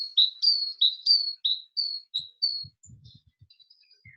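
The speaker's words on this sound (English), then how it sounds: "I'm smiling because the birds are singing. I hope you can hear that." Bird singing in a garden, a clear series of about ten bright, high whistled notes in quick rhythm, close and loud, then fading into a few softer chirps with faint low rustling.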